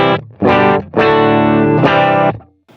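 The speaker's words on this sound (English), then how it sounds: "I've got my Gibson Les Paul Custom and I'm playing through my GT1000 Core." A Gibson Les Paul Custom electric guitar plays dry through a Boss GT1000 Core with no added effects. A few loud, clean chords and notes are heard close, each sustaining and then cut off, with no voices.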